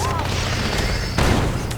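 Harrier jets strike in the Red Alert 2 strategy game, a dense rumbling barrage of game gunfire and explosions with a sharper blast near the end, loud and continuous.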